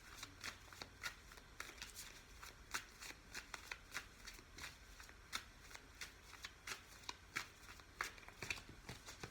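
Tarot cards being shuffled by hand, with soft, steady riffling and flicking repeated throughout, close and quiet, with no voice over it.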